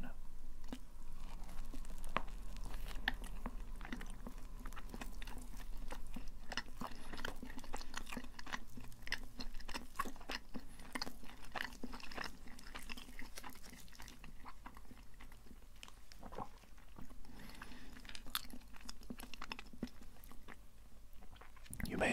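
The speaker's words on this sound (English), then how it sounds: "let us sample donut number one" Close, quiet chewing of a chocolate donut, with soft wet bites and mastication repeating steadily over a low background hum and no talk.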